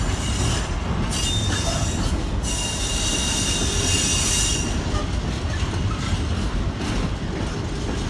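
Freight wagons behind a GBRF Class 66 grind past at Leicester station, loud and close, with a sustained high wheel squeal over the heavy rolling rumble.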